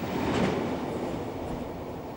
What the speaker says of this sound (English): 45110 heads this northbound ballast train on the 29th of April 1987.